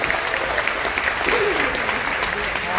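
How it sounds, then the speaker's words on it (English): A cruise ship audience at a military appreciation event on the Carnival Dream gives a sustained round of applause for a long-serving veteran, dense and even clapping, with a voice faintly heard underneath. "Can you give him a round of applause?"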